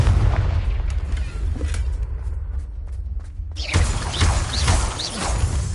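A Confringo fire spell explodes in the Hogwarts Legacy video game, a loud booming blast that bursts in partway through and rumbles on amid crackling, crashing debris.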